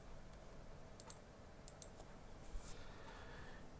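A computer mouse gives a few faint, sharp clicks in close pairs over quiet background hiss, used while alt-clicking in an IoT simulation.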